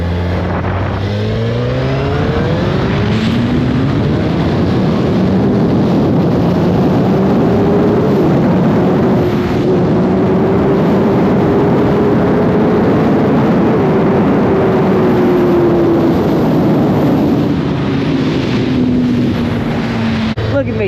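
Motorcycle ridden at speed, giving a loud continuous engine drone that climbs in pitch and holds steady under heavy wind roar throughout.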